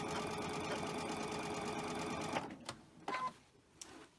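A sewing machine runs a double stitch on cotton fabric, a steady rapid mechanical whir that stops after about two seconds, followed by a few short clicks and bursts of stitching.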